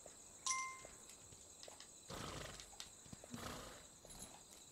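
A horse in the video game Kingdom Two Crowns: Norse Lands plods along with soft hoof clops and rustling bursts, heard faintly against a quiet, low game soundscape.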